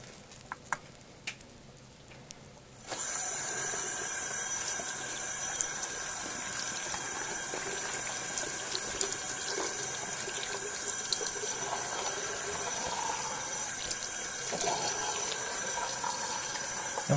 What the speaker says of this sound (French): maintenant je vais passer au rinçage